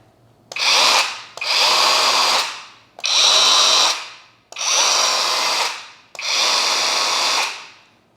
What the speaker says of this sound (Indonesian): sebelum dipasang saya mau tes dulu nih suara motornya.